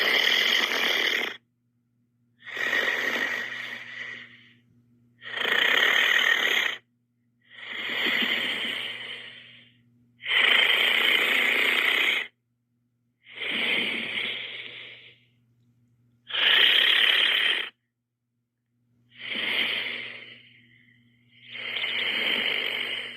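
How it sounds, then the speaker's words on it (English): Slow, creepy breathing captured on a recording, about nine long raspy breaths with hissing, wheezy tone, each separated by a pause of near silence, close and steady throughout. "Really creepy breathing."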